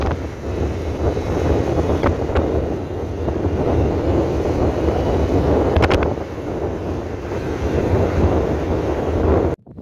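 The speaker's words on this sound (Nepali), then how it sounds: "एकदम यस्तो हावा चल्ने जग्गामा।" Strong wind buffets the microphone at the Zuluk mountain viewpoint, a continuous loud roar and rumble that gusts steadily for several seconds before cutting off abruptly.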